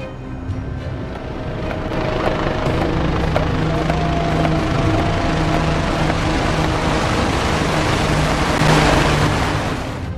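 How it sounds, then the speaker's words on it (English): A Westland 61 Sea King helicopter flies over Ukraine, its engine and rotors making a loud, steady, droning roar that holds throughout and swells slightly near the end. "has successfully flown the Westland 61 Sea King"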